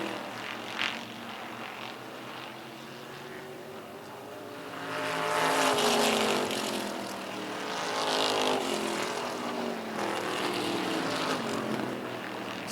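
Race cars roar around a track, engines swelling loudly as a pack passes close by, then fading and building again in long sweeping waves with continuous engine drone.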